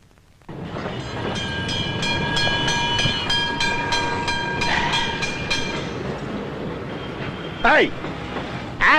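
A rail vehicle rumbles along with rhythmic clacking and a sustained tonal whine, voices talking over it, then sharp squeals near the end.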